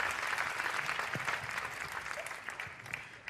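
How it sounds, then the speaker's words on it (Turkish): Audience applause at the Pantene Golden Butterfly award ceremony, a dense, steady clapping from a large crowd, loud and continuous throughout. "sizlerin büyük alkışlarıyla yerlerini arıyoruz"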